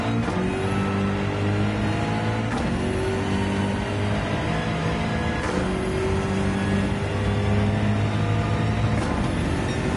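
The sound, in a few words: BMW GR.3 race car engine in video game Gran Turismo 7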